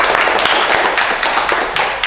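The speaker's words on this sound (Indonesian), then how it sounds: "Berikan tepuk tangan dulu guys" Loud, dense clapping from a studio audience on a football talk show, a continuous close burst of many hands with no pauses across the brief span.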